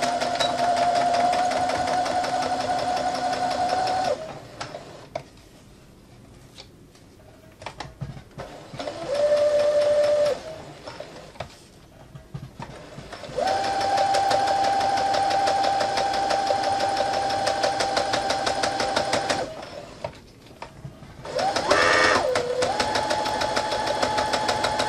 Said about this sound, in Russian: Одну сторону прошили и другую сторону шьем.